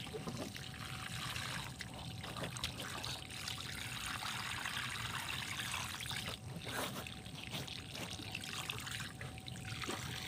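Water trickles and pours onto soil around a papaya plant, a faint, steady outdoor splashing with no talking.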